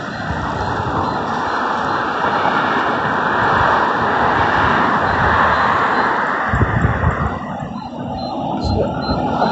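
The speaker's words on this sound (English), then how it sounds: "No, that's just traffic" Road traffic rumbles past near a railway line, a loud, broad, continuous roar of vehicles that swells and eases slightly over several seconds without voices.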